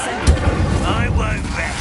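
Spell cast in Hogwarts Legacy gameplay: a sharp magical burst near the start followed by sustained swirling, whooshing game effects and low rumbles, a game voice shouting over it.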